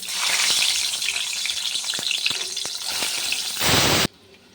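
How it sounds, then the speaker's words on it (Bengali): Egg seasoned with salt and turmeric sizzling lightly in a little oil, a steady close crackle with occasional pops, rising briefly louder before cutting off abruptly near the end. "একটু তেলে ভেজে নেব হালকা।"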